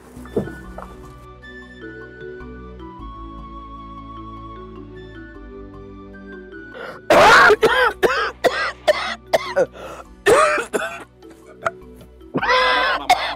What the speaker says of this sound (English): you have to stop coughing